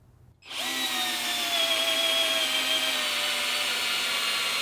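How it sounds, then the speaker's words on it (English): After a moment of quiet, a 12-volt cordless drill in drill mode whirs up sharply and runs steadily at a loud, high-pitched whine, close by, driving a screw. "I have it in drill mode. See what 12 volts can do."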